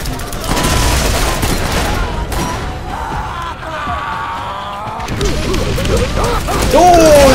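Rocket launcher explosions and gunfire in the Borderlands video game crash repeatedly through a dense, loud mix of overlapping blasts, with a voice talking at times.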